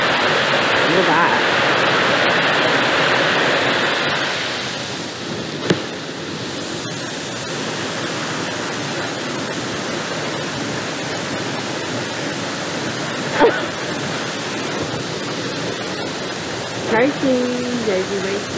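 Waterfall rushing as a steady broadband roar throughout, close and loud, with faint voices and a few brief knocks over the water noise.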